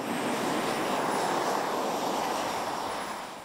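PTERA, an unmanned multi-engine research airplane, in flight: a steady, broad engine drone at moderate distance, continuous and even with no talk over it.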